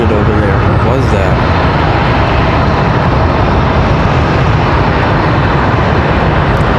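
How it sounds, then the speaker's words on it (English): A Delta Boeing 757 departs from Charlotte Douglas International Airport, its engines making a loud, continuous broadband roar that stays steady and dense throughout. "757 departing over behind us"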